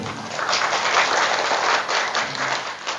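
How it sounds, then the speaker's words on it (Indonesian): A short burst of audience clapping at a gathering in a mosque in Sukamukti, Mesuji, steady and fairly close for about three seconds with no voices over it. "Tepuk tangan dulu."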